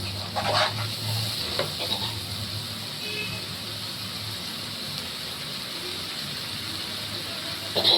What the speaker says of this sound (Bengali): আমি এবার এটাকে নেড়ে দিই, মশলাটা কষাবো